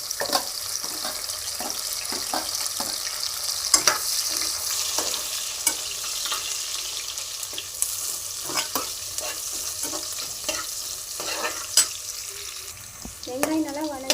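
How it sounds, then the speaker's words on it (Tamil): Onions frying in a pan for a Tiruppur-style mutton dish sizzle steadily while a spoon stirs them with repeated scraping clinks, close up, with a brief voice near the end. "இப்போ வந்து வெங்காயம் போட்டுக்கலாம். ஒரு வெங்காயம் போட்டுக்கலாம்."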